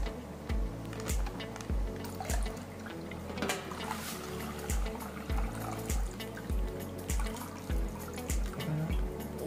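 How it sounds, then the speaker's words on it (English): Water is poured into a plastic bag in a quiet room, giving a soft trickling and splashing sound with a steady pulsing rhythm, fairly faint and with no talking. "So guys, we're going to put some more water."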